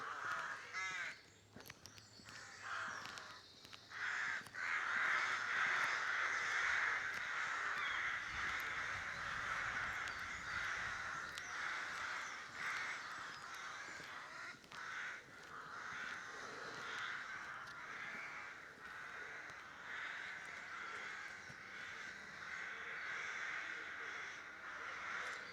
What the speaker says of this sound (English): The old rooks and carrion crows are very common.